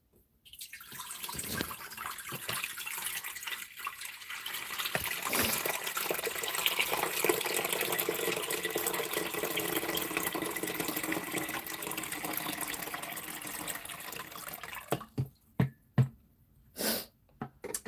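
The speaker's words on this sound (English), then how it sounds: "I'm gonna start pouring the water" Water pours from a pitcher into a pot in a home kitchen, a steady splashing stream that runs for about fourteen seconds before tapering into a few last drips and clunks.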